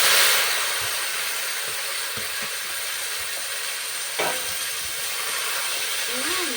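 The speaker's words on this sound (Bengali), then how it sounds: "রসুনটা আমার ভালো করে ভাজা হয়ে গেছে এরপর আমি এর মধ্যে দিয়ে দিলাম শাক" Boiled water spinach tipped into a pan of frying garlic gives a loud, steady close-up sizzle and hiss that continues throughout, with a brief clatter partway through.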